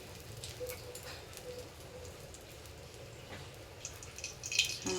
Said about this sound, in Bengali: এই কড়াতেই আমি তেল দিয়ে দেবো।